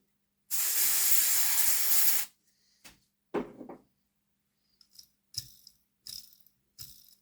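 A nearly empty can of contact cleaner sprays model train axles in one loud, close two-second hiss, followed by a few short rattles and clicks of handling.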